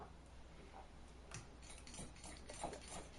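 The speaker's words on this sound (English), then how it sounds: "So I stir it a little bit just to make sure that the mayonnaise is smooth." A utensil stirs mayonnaise in a bowl, giving faint, close soft taps and light scraping clicks at an irregular pace against quiet background hiss.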